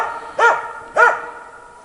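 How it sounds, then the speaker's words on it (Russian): A dog barks twice in quick succession at a squirrel in a tree in the woods, sharp and fairly close, with brief quiet between and after the barks. "Короче, в разные деревья лает."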